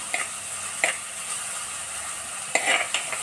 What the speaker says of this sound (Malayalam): ഇനി ഒന്ന് ഇളക്കി ഒന്ന് വയൻ്റെ വരുന്നിടം വരെ നമുക്ക് വെയിറ്റ് ചെയ്യാം